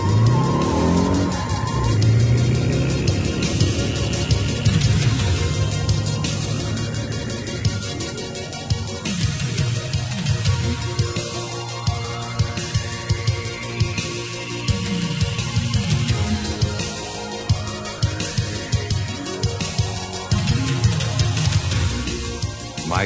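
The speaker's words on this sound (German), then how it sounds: "Michael fährt als erster zu der Schule, die Charlie Grangers Tochter besucht" KITT, the talking car in a German Knight Rider radio play, drives off with a loud, steady engine roar, repeated rising whooshes and tire squeal-like sweeps over about twenty seconds, with no voices.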